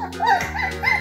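A puppy from a litter of seven newborns born in the cold season whimpers close by in short rising whines, several in quick succession within a second.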